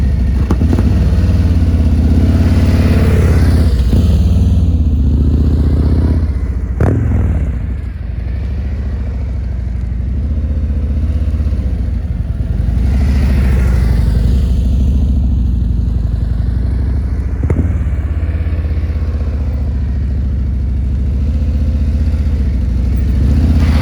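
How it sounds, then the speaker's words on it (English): A motorcycle engine idles and putters along at low revs while riding at 15 mph or less, steady and close, with a few clanks and light revving swells, no talking. "the motorcycle is going 15 miles per hour or less"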